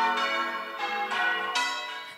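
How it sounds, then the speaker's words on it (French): Amateur bell ringers ring English church bells for a coronation. The bells strike in a clear rhythmic sequence with rich, ringing overtones that overlap and sustain, and there is no talk. "C'est le cas de ces sonneurs de cloches amateurs."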